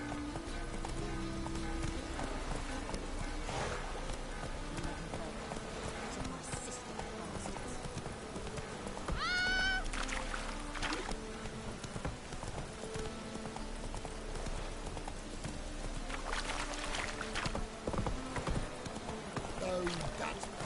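Roach, the horse in The Witcher 3 video game, trots along with steady, rhythmic clip-clopping hooves throughout. An occasional whinny and other game sounds can be heard, and a voice talks over part of it.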